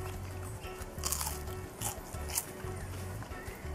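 Crisp crunching bites of fried yuca over steady background hum, a few louder crackly chews spaced across a few seconds.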